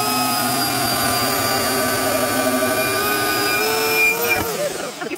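A bandsaw with a well-worn blade cuts through wood, giving a loud, steady whining drone with sustained tonal hum and a slight drop as the cut finishes.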